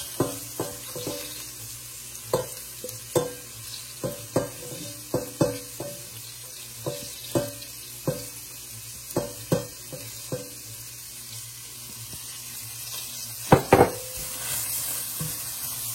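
Shredded carrots sautéing in a pan: a soft sizzle under a regular series of distinct scraping knocks as a utensil pushes them around, ending with a louder clatter near the end.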